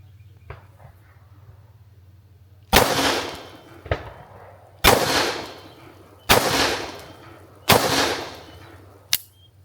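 A Taurus Judge shotgun revolver fires five loud, sharp double-action shots at a steady pace, each crack followed by a ringing tail, with a quieter pop near the start and a short clipped shot at the end.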